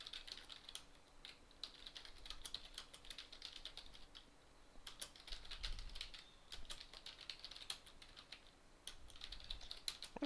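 Fast, uneven typing clatters on a computer keyboard for the whole stretch, with keystrokes in bursts and brief pauses, close and fairly quiet, with no voices.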